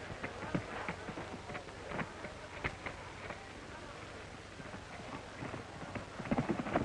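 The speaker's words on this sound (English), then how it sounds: "Mr. Tom Ford and his horse Champion." Horse hooves clip-clop in a steady, fairly close rhythm in a 1936 film, growing a little louder near the end.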